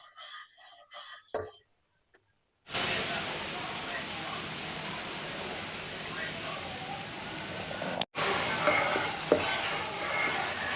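Coconut milk heating toward a boil for pork panang curry, a steady close sizzle and bubbling hiss in a pot, preceded by a brief spoken stretch and a short silence.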